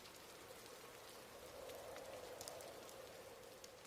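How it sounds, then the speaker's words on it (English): Rain pattering against a window pane on a stormy, windy night, a soft continuous patter with scattered distinct drops, faint and steady, no voices. "Heavy winds howled through the streets that night, and raindrops pattered against the window pane."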